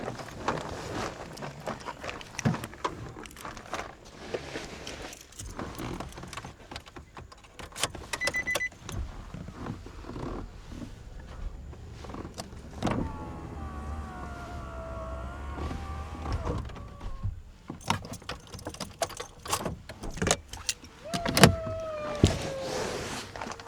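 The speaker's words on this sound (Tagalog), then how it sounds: "Sarado natin yung mga bintana ng sasakyan." Power windows hum shut on a car at a campsite near Baguio, with a whining motor run in the middle. Clicks, knocks and movement noises are scattered through the rest.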